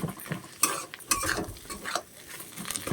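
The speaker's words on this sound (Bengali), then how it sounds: "গ্যাসটাকে কমিয়ে আমি ভালো করেই নাড়াচাড়া দিচ্ছি" Mixed vegetables get stirred in a pan on a gas stove turned low, with a soft background sizzle under repeated scraping and a few sharper utensil knocks against the pan.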